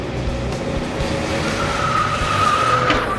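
Go-karts racing at the NCM Kartplex, a continuous close roar of small engines with tires squealing and a rising whine as a kart passes.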